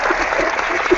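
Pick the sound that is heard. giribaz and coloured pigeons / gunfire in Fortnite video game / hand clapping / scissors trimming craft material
hand clapping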